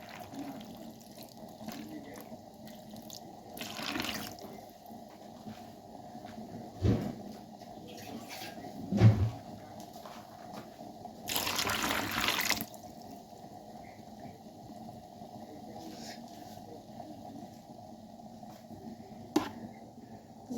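Water poured onto wheat to soak it, with faint trickling and a few short splashing bursts over a quiet room background.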